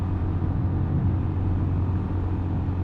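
A 2019 Honda Monkey motorcycle's small single-cylinder engine pulling up a steep hill, a steady low drone with wind rumble, close and fairly loud with no talking.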